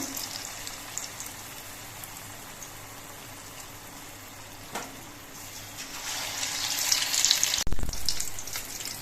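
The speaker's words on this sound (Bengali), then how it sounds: "বাকি কাঁকরোলগুলো আমি একইভাবে ভেজে নিচ্ছি" Slices of teasel gourd (kakrol) frying in hot oil, a soft steady sizzle that swells louder near the end, with a brief clatter as a piece is turned or added; no voices.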